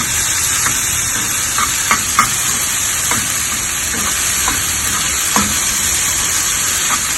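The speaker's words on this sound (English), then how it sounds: "we're going to stir and roast the tomatoes pretty well" Tomatoes roasting in a non-stick pan give off a loud, constant hiss of frying, with occasional soft scrapes and taps of a stirring utensil scattered throughout.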